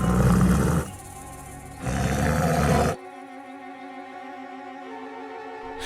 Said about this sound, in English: A huge tiger pounced on Bhima.